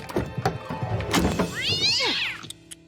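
Cartoon cat yowling in an animated children's show: a loud, drawn-out wavering cry with rising and falling pitch that swoops downward, preceded by clattering thumps and scuffling.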